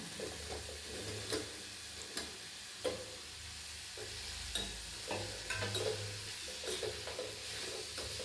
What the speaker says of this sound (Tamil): சின்ன உருளைக்கிழங்கு சேர்த்துக்கலாங்க